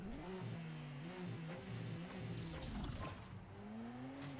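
Car engine revving in the racing game Auto Legends, a Subaru on the start line before a race, the engine note rising and falling in repeated revs, steady and close, alone without talk.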